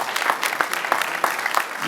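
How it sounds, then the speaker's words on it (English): Audience applause during a Q&A at a movie premiere, a steady wash of many hands clapping in a room, fairly loud and even, with a few sharper claps standing out. "All right, big round of applause."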